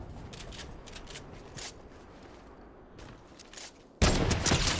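Sniper gunshots in an online shooter game, heard as scattered reports over a steady game backdrop, with one loud, close blast near the end.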